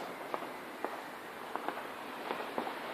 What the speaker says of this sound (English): we're watching 2 more fireworks